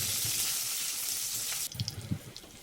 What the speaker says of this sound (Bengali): তেলটা হয়ে যাওয়ার পর আমি ওর মধ্যে ধুয়ে রাখা পটলগুলো দিয়ে দিলাম। পটলটাকে একটু নাড়াচাড়া করে ভেজে নেব।